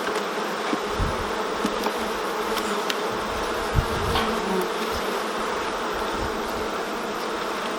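Honeybees buzzing steadily inside an open beehive during a frame inspection, a dense continuous hum with occasional closer individual bees droning past and faint knocks of handling, no talking.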